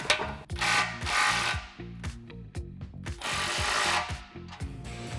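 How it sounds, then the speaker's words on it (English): Repeated ratchet clicks from a hand ratchet snugging an exhaust clamp on a 2015-2022 Dodge Challenger 6.4L during a Flowmaster American Thunder cat-back install, in short close bursts with pauses and some clanking between. "I'll snug this clamp, and once I have everything installed, I'll go back and fully tighten everything"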